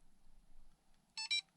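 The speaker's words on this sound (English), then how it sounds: "there's the alarm" A DumboRC RC receiver sounds its low-voltage alarm at 3.8 volts per cell: two short, high-pitched electronic beeps in quick succession, close and clear over a faint, quiet background.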